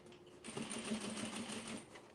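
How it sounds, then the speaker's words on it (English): A sewing machine stitches down a denim tote in one steady, continuous run of rapid mechanical whirring, close and fairly quiet. "And then sew it down"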